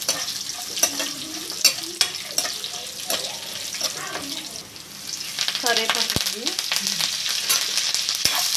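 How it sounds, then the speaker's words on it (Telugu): Chana dal, urad dal, mustard seeds, cumin and dried red chillies sizzle and crackle in hot oil, with intermittent stirring and splashes of tap water running nearby, all close and steady without talk. "శనగపప్పు, సాయిమినపప్పు, ఆవాలు, జీలకర్ర, ఎండుమిరపకాయలు ఇవి బాగా వేగిపోవాలి."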